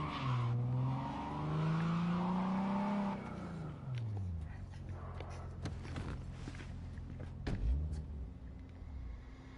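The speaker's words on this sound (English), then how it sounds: "My fucking car's stuck. Go backward. I can't do anything." A car stuck in the Cyberpunk 2077 video game skids and revs, a loud engine tone rising and then falling, with scraping and tire noise through the rest of the clip and no talk.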